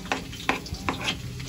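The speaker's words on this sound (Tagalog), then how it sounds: "Nilagyan na ng pan ang ng mantika. So gisa natin ang bawang." Garlic sautés in hot oil in a pan, a soft sizzle broken by sharp rhythmic scrapes and clinks of stirring about every half second, close and fairly quiet.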